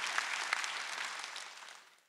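A church congregation at a Sunday worship service breaks into dense, steady applause that fades gradually over about two seconds, with no voices above it.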